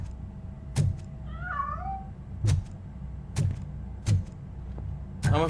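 A cat meows with a rising, wavering call inside the video game RoboCop: Rogue City, heard once amid sharp clanks and thuds of game action over a steady low rumble.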